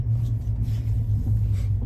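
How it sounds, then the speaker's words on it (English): City road traffic rolling past, a steady low rumble of car engines and tyres that stays loud and constant throughout. "It's a lot of traffic lately all around this city."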